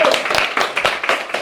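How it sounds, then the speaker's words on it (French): Brief, lively clapping from a group during a live stream at a villa, a quick run of close, uneven claps over a short stretch. "tonnerre d'applaudissements pour le retour de Casté"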